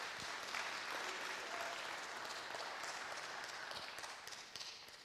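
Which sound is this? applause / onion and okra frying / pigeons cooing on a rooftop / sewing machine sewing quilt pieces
applause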